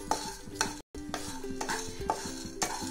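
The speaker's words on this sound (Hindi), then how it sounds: "अभी हम इसका ऑयल छोड़ने के लिए सारे मसाले ऐसे भुनेंगे इसमें थोड़ी देर के लिए, ताकि मसाले अपना ऑयल छोड़े।" Whole spices dry-roasting in a pan for vegetable pulao, a steady close sizzle broken by repeated scraping stirs every half second or so, with a brief dropout partway through and no talking.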